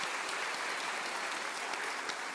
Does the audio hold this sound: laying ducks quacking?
no